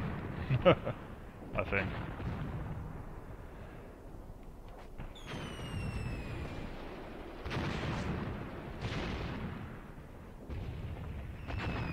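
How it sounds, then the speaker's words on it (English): Mortar fire in the war game Graviteam Tactics, a handful of heavy booms spaced several seconds apart with rumbling battle noise between, someone briefly speaking over it. "I'm hearing the sounds of battle from back here. Oh no, wait, that's my mortars, never mind."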